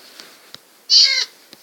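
An ocelot cat in Minecraft gives a single short, bright meow, close and clear, against a quiet background with a few faint clicks.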